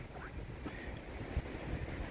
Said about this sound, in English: the wind is ripping at